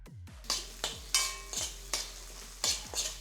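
Chopped onions sizzle and hiss in a hot pan, with repeated bursts of stirring and scraping roughly every half second, loud and close.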